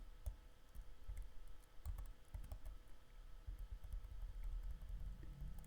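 Quick keystrokes as numbers are entered on a computer keyboard, a steady stream of light clicks and taps with brief uneven pauses, close and fairly quiet, with no speech.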